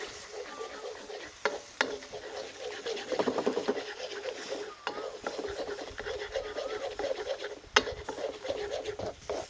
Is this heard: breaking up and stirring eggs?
yes